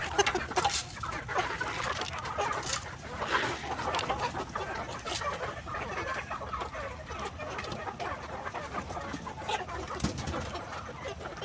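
A flock of gamefowl chickens, Shamo, Asil and gamefowl crosses kept in one pen, clucks and crows continuously, close and busy, with overlapping calls and rustling throughout.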